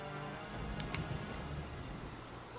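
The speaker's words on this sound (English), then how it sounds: "it's raining" Steady broadband rain hiss from a storm in The Legend of Zelda: The Wind Waker while sailing at sea, continuous and moderately loud with a couple of brief brighter spatters, no voices.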